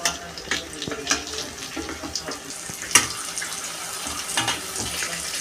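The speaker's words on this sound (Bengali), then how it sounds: "লাল লাল করে ভাজা হয়ে গেছে" Poppy seed fritters sizzling in hot oil in a home kitchen pan, a steady crackling hiss with scattered sharp pops, close and continuous, no talk.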